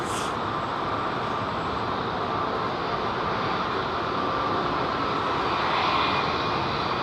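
Steady, loud jet roar from a JetBlue Airbus A321neo at London Heathrow Airport, a constant broadband rush with no pauses and no voices over it.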